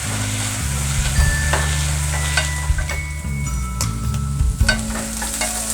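Onions sautéing in a pan for sambar, with a steady sizzle of frying and intermittent stirring scrapes and clinks, close and continuous without talk.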